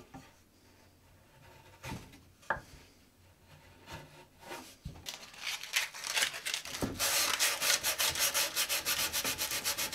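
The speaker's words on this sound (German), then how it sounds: "Jetzt werde ich den Feinschliff machen und dabei werde ich auch die Kanten nochmal bearbeiten" Fine sanding of wood for a self-built coffee bar, including the edges, rubbing in soft strokes that build into loud, rapid back-and-forth scraping with a steady rhythm in the second half.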